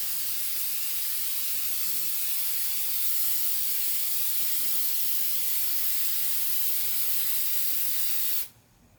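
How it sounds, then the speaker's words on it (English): Aerosol headlight coating sprayed onto a car headlight lens, a steady close hiss running continuously for about eight seconds before cutting off abruptly. "So now that we've done the second coating of the spray"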